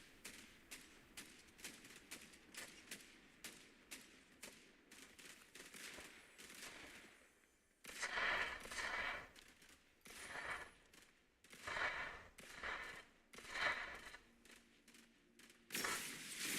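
Rapid bursts of gunfire in the video game Fortnite, a string of quick close shots followed by heavier repeated volleys of fire, fairly quiet overall.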